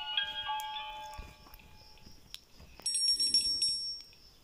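Bell ringing in the horror game Granny, bright sustained metallic tones that ring in clustered bursts, fading briefly and then returning louder near the end, with faint background thumps and no talking.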